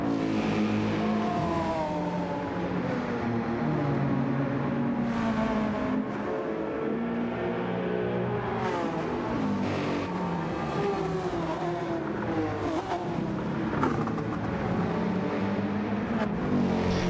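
A Genesis X race car in Holden HRT livery laps Bathurst in Gran Turismo 7, its engine droning loud and steady and climbing through gears with repeated revving sweeps and shifts.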